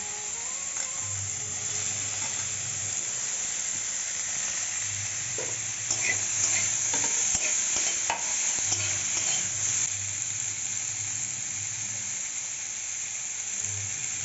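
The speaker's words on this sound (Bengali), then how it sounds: "তেলটা গরম হয়ে গেছে আলু গাজর বিনটা ভেজে নেবো" Potatoes, carrots and beans sizzling steadily in hot oil, with a spell of spatula scraping and stirring clatter in the middle.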